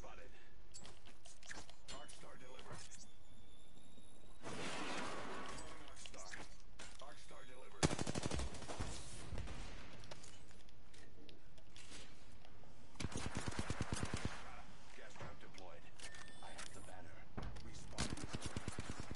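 Gunfire bursts in a video game, firing in scattered short volleys across the clip, fairly faint beneath someone speaking Italian over the action.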